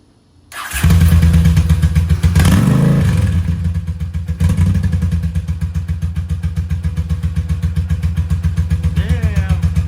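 A 1983 Honda GL650 cafe racer motorcycle fitted with a new exhaust cranks over and fires up, then settles into a loud, steady, throbbing idle with a slight blip partway through, close and continuous.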